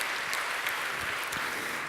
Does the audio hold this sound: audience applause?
yes